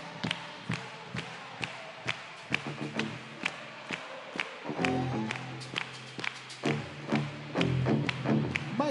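A church congregation at an evangelical conference claps hands in a steady, even beat, crisp claps landing under loud group singing throughout.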